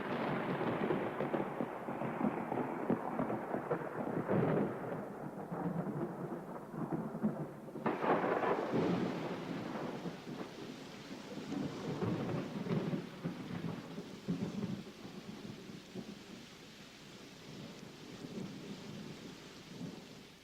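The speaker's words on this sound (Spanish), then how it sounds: "esa tarde Dios envió una tormenta que acabó con la sequía" Steady rain pours while deep thunder rolls and rumbles through a storm, with a louder crack partway through and no voices.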